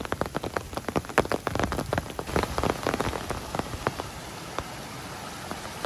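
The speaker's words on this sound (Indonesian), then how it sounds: "diguyur hujan yang memang lumayan cukup deras ini teh" Heavy rain pours down in a village, a dense steady hiss with many sharp drip and splash impacts close by, loudest early and then settling into an even wash, with no voices.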